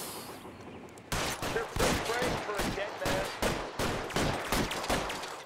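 Gunshots in the video game LA Noire, a loud run of sharp repeated bangs firing in quick irregular succession after a brief quieter moment.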